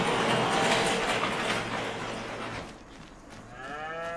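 Cows low inside a cow barn in Farming Simulator 25, a few deep moos layered over a dense, noisy barn ambience that fades slightly toward the end.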